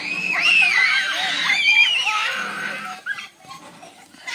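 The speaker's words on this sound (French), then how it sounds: "Ça fait du bien hein, de voir des enfants crier, s'amuser." Children shouting and screaming as they play in a school yard in Isan, Thailand, loud and close with overlapping high-pitched voices that ease off near the end.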